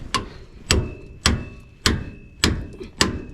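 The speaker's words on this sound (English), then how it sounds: "And now let's hammer it and it will separate" Repeated hammer blows knock apart the upper control arm ball joint on a 2014 Ford F150 5.0L, six sharp metallic strikes landing about every half second, close and loud.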